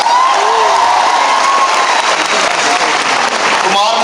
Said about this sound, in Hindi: उनके लिए जोरदार तालियां हो सकती हैं।